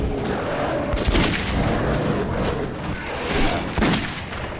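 Rapid gunfire in the Metro 2033 Redux shooter, dense repeated shots with booming impacts filling the clip, loud and close with no talk.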